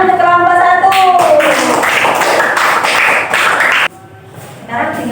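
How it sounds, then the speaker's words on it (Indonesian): A classroom of students applauds group 1 with a steady spatter of claps that runs under a teacher's speaking voice, then cuts off abruptly and leaves the voice alone. "Tepuk tangan untuk kelompok 1."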